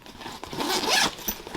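A small zipper pocket on a camera bag is pulled open in one quick rasping stroke, close and clear with a brief fabric rustle after it.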